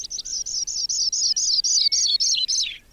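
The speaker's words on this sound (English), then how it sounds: "Sprague's pipit," Sprague's pipit singing over northern Great Plains prairie, a clear descending series of about ten ringing, evenly spaced high notes. It sounds close and carries on alone without other noise.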